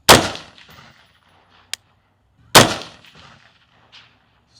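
An AR-15 rifle fires two sharp, loud shots about two and a half seconds apart at an outdoor target range while zeroing a red dot optic, with a faint metallic ping between them.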